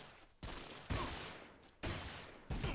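Heavy gunfire in the 50 Cent Bulletproof video game, with several loud bursts of shots in a rapid, sustained barrage that keeps coming back.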